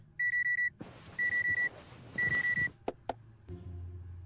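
Alarm clock in a point-and-click game beeping in three short bursts of rapid pulsed tones, followed by a couple of sharp clicks and a low hum.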